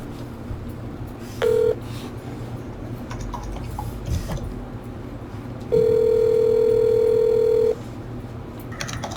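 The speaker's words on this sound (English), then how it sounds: "Your phone is ringing." Phone in the game EmergeNYC sounding a short electronic tone followed by a longer steady ring tone of about two seconds, over a busy background hum with faint ticks.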